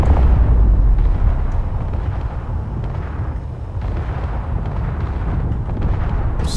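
Weapons fire and explosions in the space video game Space Engineers, a continuous dense rumble of booming blasts and gunfire, loud and unbroken across the whole stretch with no voices.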